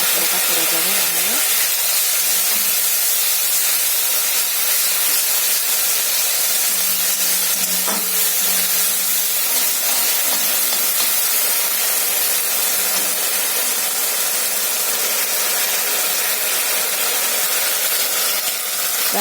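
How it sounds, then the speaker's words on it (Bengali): Spices frying in a pan sizzle with a broad, steady hiss after a splash of water is added, continuous and close, with a brief voice in the background. "অল্প একটু জল দিয়ে দিলাম, কারণ মশলাটা পুড়ে যাবে নাহলে।"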